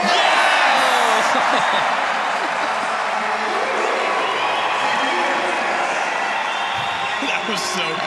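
A large arena crowd at a women's skateboarding final in Sydney cheers and applauds steadily, a broad, sustained roar with whoops, loud and continuous throughout.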